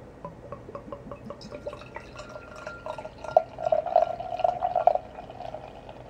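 Homemade loquat sour beer is poured vigorously into a glass, with soft dripping and splashing that builds into a louder bubbling fill, heard up close with no talking.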